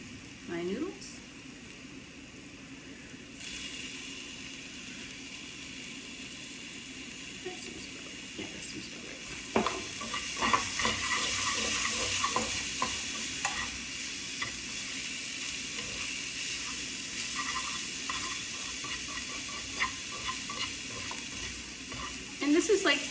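Shirataki noodles are stir-fried in a hot pan with bean sprouts, carrots, garlic, salt and pepper, giving a steady sizzle with scraping and clattering stirring strokes that grow busier partway through.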